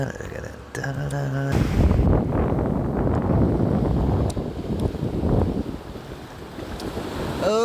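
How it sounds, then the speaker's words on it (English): Ocean surf rolls in as a loud, continuous wash with buffeting wind noise, beginning abruptly after a brief tonal sound and then fading slightly near the end. "Ocean sounds."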